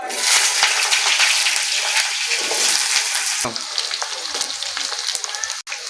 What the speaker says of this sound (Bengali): আলুটা সামান্য ভেজে নেব।